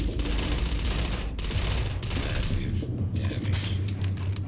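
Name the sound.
gunfire from a gun in the video game Starfield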